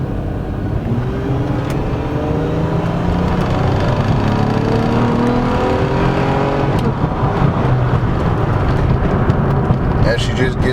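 A 2004 Nissan Maxima engine revving and pulling hard under acceleration, a loud continuous roar rising in pitch from inside the car, with a voice talking over it.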